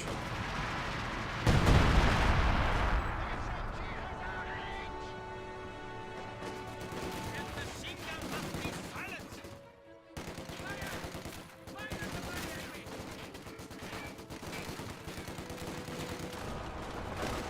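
British base artillery shelling in Company of Heroes 2, a heavy opening blast followed by a long dense wash of rumbling impacts, gunfire and battle noise, steady and loud with a brief dip midway.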